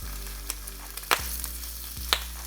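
Ham and an egg frying together in a pan as the ham is turned, a close continuous sizzle with a low hum underneath and a few sharp spatters and scrapes, no talking.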